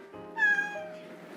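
A pet cat gives a single short meow, close and fairly quiet, rising then trailing off.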